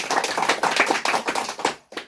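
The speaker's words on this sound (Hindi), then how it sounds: "एक बार ताली बजा दे।" A group at a community meeting claps hands together in a brisk, fairly close burst of applause lasting about two seconds, ending with a short pause and a final clap.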